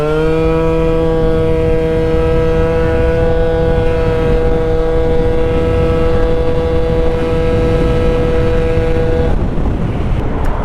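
A Honda Elite scooter engine with a smart carburetor, ridden, drones loud and steady at one pitch for about nine seconds, then bogs and breaks up near the end.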